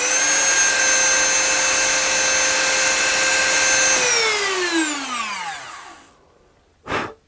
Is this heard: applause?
no